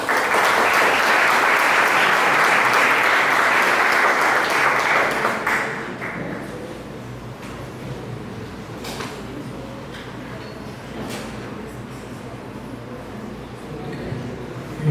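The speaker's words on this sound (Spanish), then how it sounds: "Lo recibimos con un fuerte aplauso." An audience applauds loudly and continuously at a formal gathering, then the clapping fades into a quieter room murmur with scattered claps.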